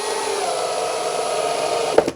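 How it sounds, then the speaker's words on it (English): An air compressor runs steadily and fairly loud with a constant motor hum while screws are driven into wood for a solar wax melter, a brief sharper knock near the end. "while the compressor was running"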